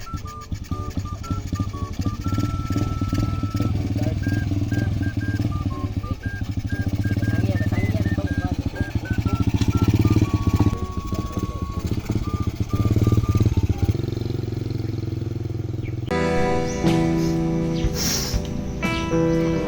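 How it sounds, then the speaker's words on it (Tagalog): A motorcycle engine runs close by, a steady throbbing drone that holds with slight rises in pitch and then shifts in tone near the end. "Kuhaan sa ako kung motor."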